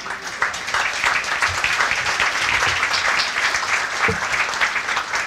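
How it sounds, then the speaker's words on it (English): Sustained audience applause for an award announcement at a historical organizations gathering, a loud, dense crowd clapping that stays strong for over five seconds with no speech. "That's worth applauding right there."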